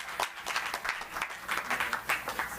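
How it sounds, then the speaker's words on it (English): Audience at an international interdisciplinary university conference applauds, a steady roomful of clapping with audible individual claps, moderately loud and continuous. "So Karde sir, please big round of applause,"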